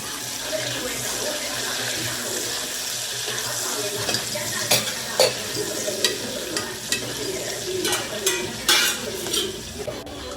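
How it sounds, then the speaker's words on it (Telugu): Onions and green chillies frying in a pan: a steady sizzle runs underneath while stirring adds a series of sharp scrapes and clacks in the second half, close by and with no talking. "తర్వాత ఇందులోనే పచ్చిమిర్చిలు కూడా యాడ్ చేసుకొని ఫ్రై అయ్యేదాకా కలుపుకోండి."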